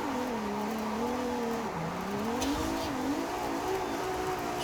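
A Ferrari 296 GTB's V6 engine in the racing game Forza Horizon 5 hums steadily, its pitch rising and falling as the throttle is eased on and off, fairly quiet and unbroken.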